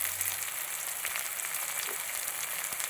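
Curry leaves dropped into hot oil for Kerala-style upma crackle in a steady, close sizzle with small popping bursts, and there is no talking.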